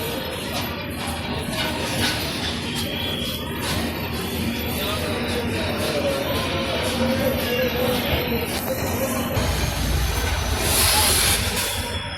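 The Puri–Howrah Express passenger train rumbles along close by, departing and running, wheels clattering and occasionally squealing on the rails in a steady, loud run.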